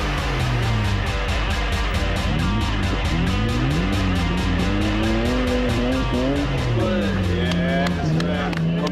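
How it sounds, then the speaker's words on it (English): A car launches into a timed hill climb run: the engine revs climb and fall through several gear changes, with tyre squeal and a hard, continuous mechanical roar close by. "Both cars were ready for their timed runs up the hill."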